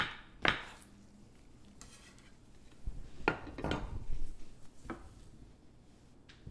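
Knife chopping soft mushrooms on a board: a few scattered taps and clatters, quiet and irregular, with brief utensil knocks in between.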